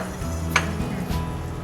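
Breaded Spanish croquetas fry in hot oil at a cooking school in Madrid, giving a soft steady sizzle close by, with a brief sharp clink of a utensil and a low hum beneath.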